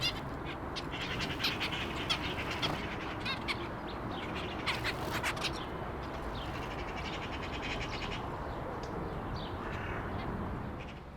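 Zebra finches in an aviary, a busy chorus of short chirps and nasal calls over a steady, dense background hiss, with no talk.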